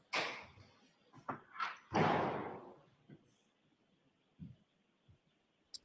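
A courtroom door swinging and thudding shut, a few dull knocks and bumps at a moderate distance with a quiet room between them, and no talking.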